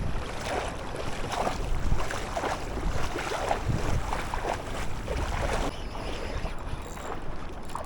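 Steady wind buffets the microphone on a shallow reef during wade fishing, a continuous rushing roar with faint water splashing underneath and no talk.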